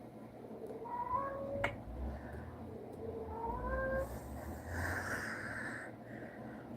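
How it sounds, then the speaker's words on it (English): A cat meows twice over a steady low background hum, the calls rising and falling in pitch, moderately close and not very loud. "There goes the cat, Tommy, just for you."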